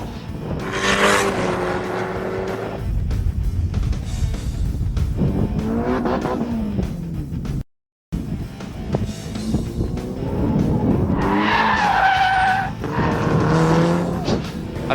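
Street cars race timed laps on a track, engines roaring loud and close as they rev up and down through gear changes, with squealing tires and a brief dropout in the middle.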